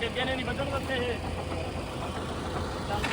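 A tractor engine idles nearby with a steady, rumbling drone that holds even throughout, with no pauses or revving.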